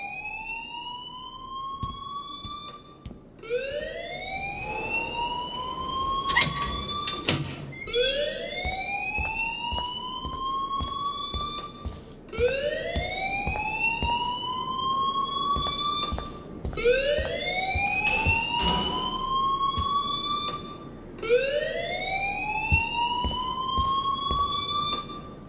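A fire alarm rings in the Life Is Strange video game, a loud, repeating rising electronic whoop sounding about every four seconds, with a brief shrill beep early on.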